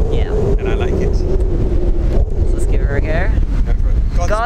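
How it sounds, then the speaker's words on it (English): Strong, gusty wind buffets an outdoor microphone with a steady low roar during a drone flight test, while a higher whine rises and falls over it and people talk briefly. "God, the wind's crazy."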